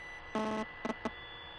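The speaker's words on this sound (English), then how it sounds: "there's like a buzzing noise" Headphones in The Suicide of Rachel Foster give off a buzzing beep: one sustained electronic burst, then a quick pair of short beeps and a final single beep, clear over a quiet hum.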